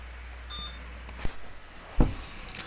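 A few short electronic beeps from an FPV drone sound in a quiet room, a high tonal cluster early on, followed by faint clicks and a brief thump.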